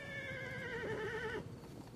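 A horse whinnies in the Total War: Attila battle game: a single loud, wavering neigh lasting over a second, then fading into low battlefield din.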